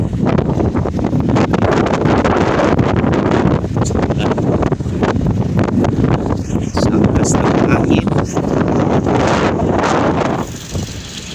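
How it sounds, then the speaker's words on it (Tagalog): Strong typhoon wind and heavy rain near boats at sea, a loud, steady roaring wash of wind and rain with dense gusty buffeting that eases slightly at the very end. "Umulan ang lakas. Lumakas ng umulan."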